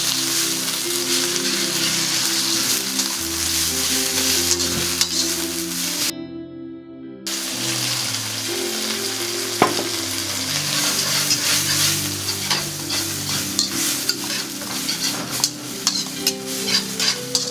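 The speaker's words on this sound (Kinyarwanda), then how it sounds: "Hanyuma dushyiremo za nyanya zacu twahasiriye" Chopped tomatoes frying in a pan for bolognese sauce, a loud, steady sizzle with rhythmic stirring scrapes and clicks throughout, briefly cutting out before picking up again.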